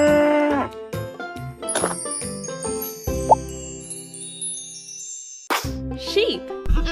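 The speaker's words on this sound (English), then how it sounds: "Cow." A cow moos in a children's animal-sounds sequence, a clear sustained low call set against bright musical tones and chimes, with a spoken voice naming the animal.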